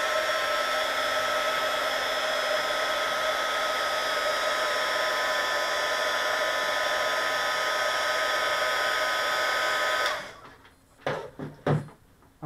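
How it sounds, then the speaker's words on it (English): A small hot-air heat tool, used for electronics work, blows with a steady, even whirring hiss for about ten seconds, then cuts off, leaving faint clicks and handling sounds. "I love this little heat tool."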